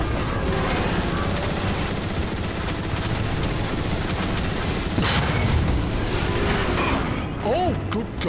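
Sustained bursts of rapid weapon fire and booms from a battle in Transformers: War for Cybertron, dense and loud throughout with a brief mechanical whir near the end.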